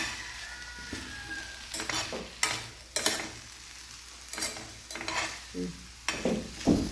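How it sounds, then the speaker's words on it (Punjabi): Chutney ingredients dry-roast in a pan over a low gas flame while a spoon stirs them, making irregular scraping strokes and knocks against the pan over a soft sizzle. "ਇਹਨਾਂ ਨੂੰ ਆਪਾਂ ਬਿਲਕੁਲ ਘੱਟ ਗੈਸ ਤੇ 4 ਤੋਂ 5 ਮਿੰਟ ਪੁੰਨਣਾ ਹੈ"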